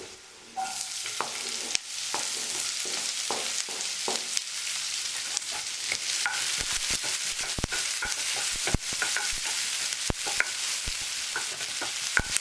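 Chopped onions sauté in a hot pan for baingan bharta, a continuous close sizzle punctuated by sharp clicks and scrapes of a spoon stirring against the pan.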